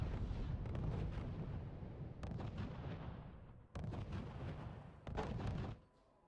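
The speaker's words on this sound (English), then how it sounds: "Now he's coming out with the Stukas" Stuka dive bombers strike in the strategy game RUSE, a series of heavy booming explosions and rumbling blasts in several bursts, faint and distant, ending abruptly.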